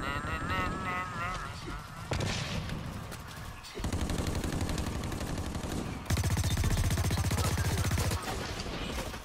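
Breech hammer weapon firing in the shooter game Blacklight, heavy gunfire blasts and bursts over a noisy in-game mix of explosions and rumble, loud and sustained across several segments.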